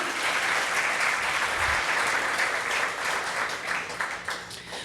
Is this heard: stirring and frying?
no